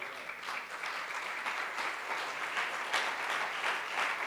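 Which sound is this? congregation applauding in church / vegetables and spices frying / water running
congregation applauding in church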